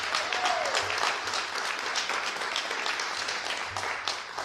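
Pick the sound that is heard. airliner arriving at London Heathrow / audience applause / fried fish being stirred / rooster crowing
audience applause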